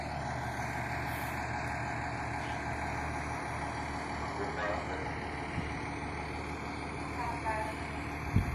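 Fire engine rolling out of the station toward a brush fire, a low steady diesel rumble and idle filling the background at moderate distance, with a faint voice and a short hiss near the end.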